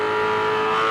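A V8 Supercar engine at Phillip Island holds fourth gear in a loud, sustained, steady high-pitched roar, close and unbroken for the whole moment.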